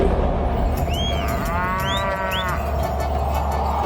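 A cartoon buffalo gives a long, loud moo that rises and falls, heard alone over steady background noise in an animated Hindi story.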